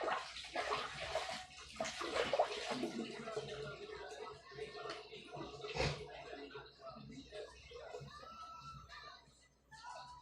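Tap water runs and splashes while raw chicken is washed by hand for curry chicken prep, with irregular sloshing and handling noises close up, a person talking intermittently over it.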